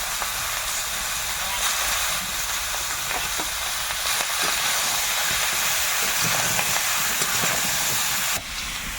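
Pumpkin curry with panch phoron, bay leaf, ginger, turmeric and salt cooks in oil in a wok, giving a steady broad sizzle and hiss throughout with no break.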